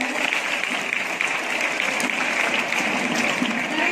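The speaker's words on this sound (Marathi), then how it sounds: "ज्या विद्यार्थ्यांना गुण मिळालेले आहेत त्या सर्वांसाठी एक जोरदार टाळ्या" An audience at a student quiz competition gives dense, steady applause, loud and sustained from start to finish without a pause.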